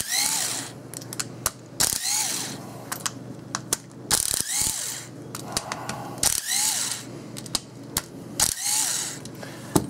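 Small Makita driver works screws out of the case of a Harbor Freight 7-inch 10-amp variable speed polisher/sander, giving repeated short ratcheting whirs and clicks in bursts of about a second, close and fairly loud, with no talking.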